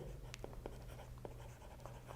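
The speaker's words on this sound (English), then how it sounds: "So maybe I'll just write that" Pen or marker scratching out notes in a recorded lecture on computer science proofs, with a run of short strokes and taps over a steady low hum, fairly faint and without talk.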